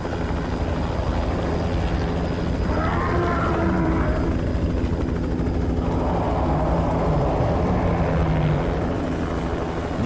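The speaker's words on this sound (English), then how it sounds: "Helicopter." A helicopter arrives in The Thing video game, its steady, loud rotor drone continuous throughout, with some growling creature-like tones rising and falling beneath it.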